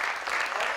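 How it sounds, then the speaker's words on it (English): An audience at a bluegrass event applauds for the volunteers, a dense, steady wash of many hands clapping with no talk over it. "give them all a big round of applause for everybody who's volunteered work so hard"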